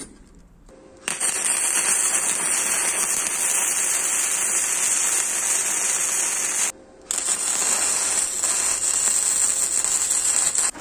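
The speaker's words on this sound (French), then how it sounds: "Maintenant il n'y a plus qu'à souder tout ça." A steel mini barbell being welded, a loud, steady buzzing crackle of the arc running for several seconds, stopping briefly, then starting again close by.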